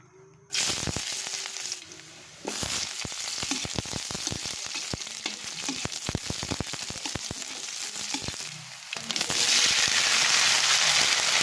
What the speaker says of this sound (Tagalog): magluluto lang po ako ng pansit